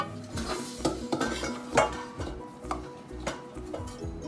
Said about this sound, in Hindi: धीमी आंच पर हमें मैदा, घी और बूरा का ये जो कॉम्बिनेशन है अभी और सेकना है।